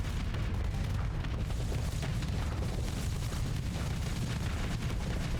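Dense, unbroken barrage of auto pulse weapon fire in the space combat game Starsector, a loud roar of overlapping blasts sustained throughout with no pauses.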